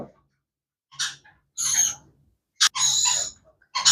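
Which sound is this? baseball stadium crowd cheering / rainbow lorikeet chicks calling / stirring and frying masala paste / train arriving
rainbow lorikeet chicks calling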